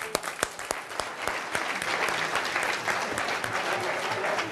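An audience at a boutique bar show applauds, a loud dense burst of clapping that starts with a few distinct sharp claps and then fills in to a steady wash.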